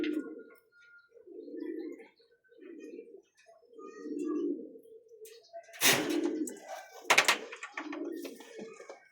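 Imported Taiwan pigeons cooing, a series of soft low coos in repeated phrases close by, broken later by a few sharp clatters and knocks.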